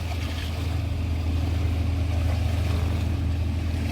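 A fishing boat engine drones steadily at close range at Yeongmok Port, Taean, a constant low throbbing hum with waves and water noise around it and no voices.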